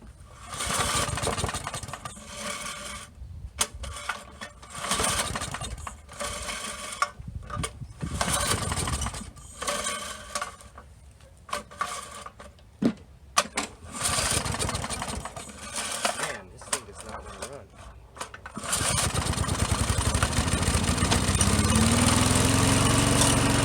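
A 1984 Briggs and Stratton push mower engine runs with its governor spring rehooked, surging and dropping in uneven bursts of buzzy throttle, then settling into a steady, loud, continuous roar near the end.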